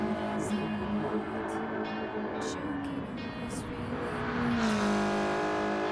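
A 1991 Lancia Delta HF Integrale Evoluzione with an inline-4, tuned for racing in a game: a loud, sustained engine drone that holds pitch, dips slightly, then climbs as it revs up, with brief bursts over it.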